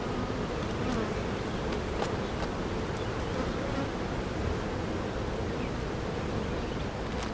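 Honey bees drone steadily around an open beehive during a colony inspection in June, a dense, continuous buzzing swarm close by with no talk.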